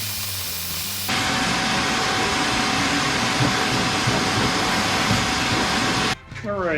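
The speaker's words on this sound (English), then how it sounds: "All right, go get my vacuum cleaner." A shop vacuum cleaner starts with a sudden loud roar and runs steadily for about five seconds during work on a Ford Powerstroke diesel fuel system, then shuts off and winds down.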